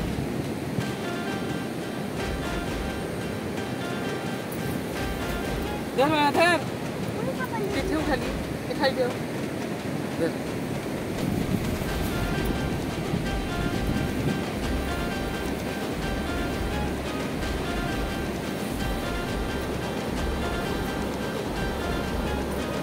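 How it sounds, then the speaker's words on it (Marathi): Rough, churning sea waves roll onto the Ratnagiri shore in a constant loud roar with gusts of wind, while people talk nearby. "कसला आवाज आहे समुद्राचा खवळलेला."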